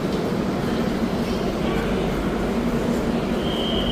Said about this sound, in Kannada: ನಮ್ಮ ಹಿಂದೆ ತಿರುಪತಿ ಮತ್ತು ಲಿಂಗಂಪಲ್ಲಿ ಟ್ರೈನ್ ನಿಂತಿದೆ.